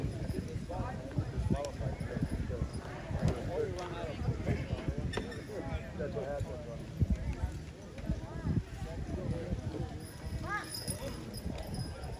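Draft horses straining at a horse pull competition, hooves clopping steadily on packed ground with chains and harness rattling, while a crowd murmurs and voices talk nearby throughout.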